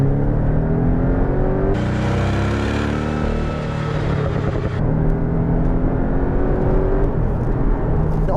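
A Porsche 718 Boxster S engine revs hard nearby, its droning pitch climbing and falling through several rises, loud and unbroken.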